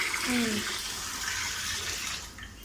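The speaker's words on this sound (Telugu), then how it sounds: "బాస్మతి రైస్ వాష్ చేసుకొని" Water runs and sloshes as basmati rice is washed, a steady gushing wash close by with a voice talking over part of it.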